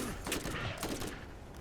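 Rapid SMG gunfire in the video game Borderlands 1 Remastered, a short brittle burst of a few sharp shots over busy game noise, fairly close and loud.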